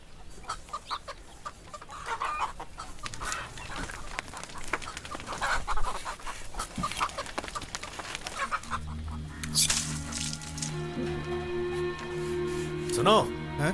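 A chicken clucks in a household scene from a Hindi-dubbed action film, under steady indoor speech and background noise, with louder tonal bird calls rising near the end.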